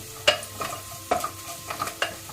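Onions softened in a pan with turmeric powder added are stirred, giving several distinct scraping clatters at irregular intervals over a soft, low sizzle, close and fairly quiet with no voices.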